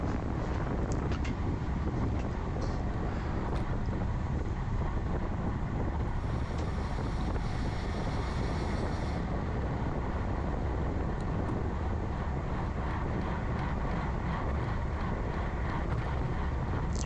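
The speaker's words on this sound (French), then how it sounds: "Un petit vent de 25-30 km/h." Steady, loud wind roar buffets the microphone during a cyclosportive road bike race near Cannes, a dense continuous rush of air noise lasting throughout with no voices.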